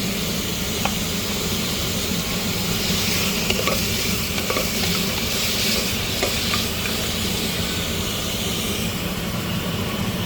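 Mutton frying in a pan with salt and turmeric, a continuous loud sizzle and hiss with scattered scraping clicks of a utensil stirring the meat, steady throughout with no talking.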